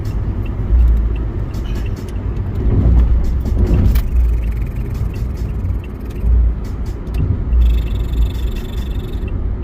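A car speeding along a road, with a loud, steady engine and tyre rumble throughout and a few brief surges and clatters on top, with no voices.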